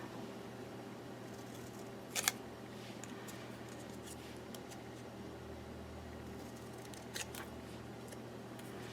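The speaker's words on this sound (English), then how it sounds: "I'm just going to use my scissors to cut like a little fishtail" Scissors cutting a fishtail into a paper strip for a craft make two brief, crisp snips several seconds apart over a quiet room hum.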